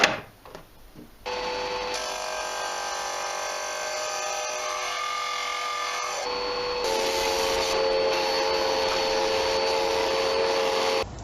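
A disc sander runs steadily with a dust extraction system drawing air, giving a loud continuous whine and rushing hum that steps up in level partway through and carries on without pause.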